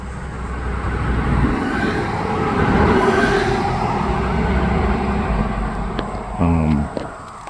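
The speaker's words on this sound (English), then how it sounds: "It's a pretty busy road here, so apologize for the traffic noise." Traffic on a busy road passing a historic cottage site rumbles steadily throughout, swelling and easing as vehicles go by, with a brief mechanical rattle near the end.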